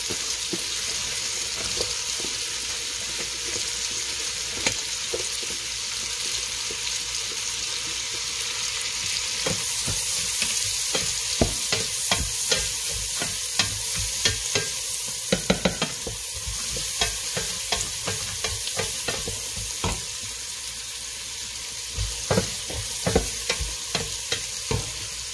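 Celery and carrot being stir-fried in a hot pan for a seafood soup, a steady loud sizzle broken by repeated clatters of stirring and scraping throughout.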